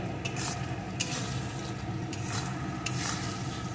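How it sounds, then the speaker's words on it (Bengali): Masala spice paste is sautéed in a pan over medium-low heat, a soft continuous sizzle with occasional stirring scrapes, quiet and close with no voices. "এখন সমস্ত মশলাটা সুন্দর করে কষিয়ে নেব"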